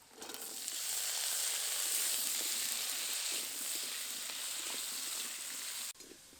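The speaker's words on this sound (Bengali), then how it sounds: "এবার এর মধ্যে দিয়ে দেবো আলু বেগুন আর মূলো" Potato, eggplant and radish fry with lightly browned chopped onion in a pan, a steady bright sizzle with soft stirring that dips briefly near the end.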